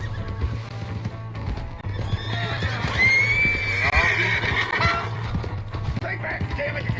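A horse in the video game Red Dead Redemption 2 gives a loud, drawn-out whinny in the middle, with hoof clip-clop and gameplay noise around it and voices talking over the scene.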